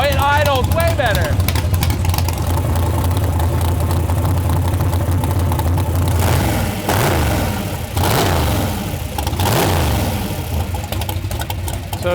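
A 440 Studebaker gasser engine idles with a loud, lumpy rumble up close, then revs rise and fall a few times while someone talks over it.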